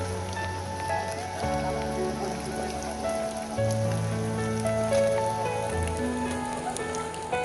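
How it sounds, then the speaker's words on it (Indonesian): Steady rain falls on the Mount Ciremai hiking trail, an even patter on surfaces that continues throughout, with low musical tones running underneath. "Saya dan Doni yang paling tidak siap dengan cuaca hujan."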